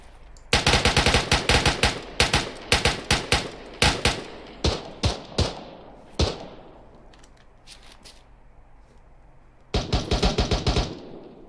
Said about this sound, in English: Bullets are landing near us.